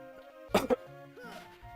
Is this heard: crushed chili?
no